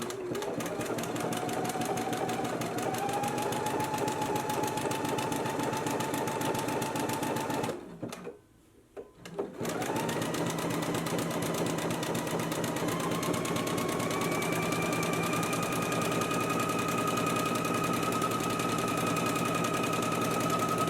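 A sewing machine runs steadily while understitching a pocket seam allowance on loungewear pants, a close, continuous rapid whir that stops briefly for about two seconds, then resumes at the same pace.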